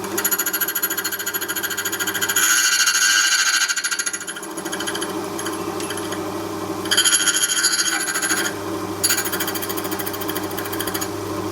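Silca Poker double key cutting machine cutting a key clamped in its jaws, giving a loud, continuous high grinding whine that rises and eases in intensity as the cutter works along the blade, with no voices.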